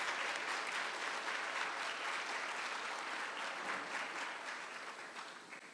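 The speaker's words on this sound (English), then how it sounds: "so let's give a round of applause for just everyone as a whole." Audience applause at a modern media conference talk, a dense, even wash of many hands clapping for nearly six seconds, heard from a distance and fairly quiet, tapering gently at the end.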